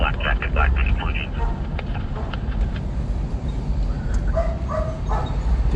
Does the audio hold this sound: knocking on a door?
no